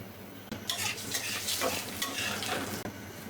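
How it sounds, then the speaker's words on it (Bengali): Dry red chillies, bay leaf, nigella and cumin fry in hot mustard oil with a continuous close sizzle, broken by stirring and a couple of sharp clicks, no talk. "সর্ষের তেল তেজপাতা অবশ্যই শুকনো মরিচ দেবেন শুকনো মরিচ দিতেই কালো জিরা একটু জিরা"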